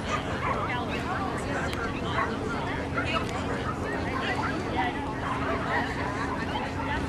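Dogs yip and bark excitedly amid a busy mix of voices and movement, the barking steady throughout rather than standing out alone.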